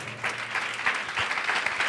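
Congregation at a church service clapping briefly and fairly faintly, a short burst of scattered applause under a low hum.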